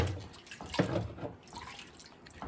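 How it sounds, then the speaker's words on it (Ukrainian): Homemade single-malt whisky mash being poured into a cooling container, a soft continuous splashing of liquid close by with a few louder gurgles, no voices. "Будемо переливати в ємність для охолодження"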